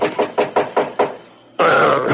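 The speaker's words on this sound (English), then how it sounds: "someone knocked on my door" Knocking on a cabin door aboard a ship in a radio drama: six firm, evenly spaced knocks, loud and close, then a sudden burst of sound.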